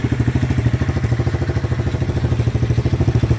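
A 110cc pit bike engine on its stock exhaust runs steadily up close, putting out a loud, even, rapid thumping idle with a slight mechanical clatter throughout.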